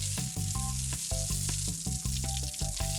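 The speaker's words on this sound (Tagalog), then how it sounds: "Sa isang kawali, nagpainit si Dada ng mantika. Sunod na inilagay ang sandamakmak na bawang." A large amount of garlic fries in hot oil in a pan, a dense continuous sizzle broken by repeated rhythmic clanks and scrapes of a utensil.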